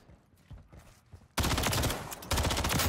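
Rapid automatic gunfire on a firing range in Modern Warfare 3, loud and dense bursts after a quieter stretch of scattered shots and movement, sustained to the end.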